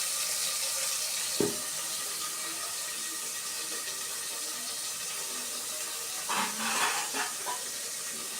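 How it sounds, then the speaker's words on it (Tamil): Ghee poured into a pot of chicken biryani gives a steady, close hiss and sizzle throughout, with a couple of brief clinks and a short bubbling flurry near the end. "நெய் வந்து ஊற்றுறோம்"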